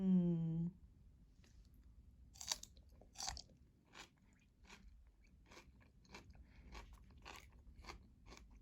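Crunchy bites and chewing of fresh cucumber dipped in Trader Joe's hummus, a steady run of close, crisp crunches after a brief opening tone, with no talking.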